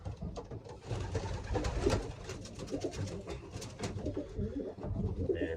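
Racing pigeons cooing steadily in a loft, several birds overlapping in a continuous murmuring chorus with soft wingbeats and rustling close by.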